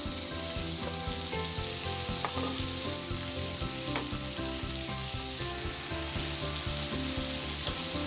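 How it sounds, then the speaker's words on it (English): Pork slices, squid and scallop sizzle steadily in an oiled pan, with dense crackling and the occasional scrape of stirring, loud and close with no voices. "Stir fry the ingredients."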